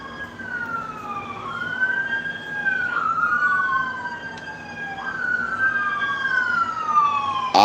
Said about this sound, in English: Police cars or sirens passing by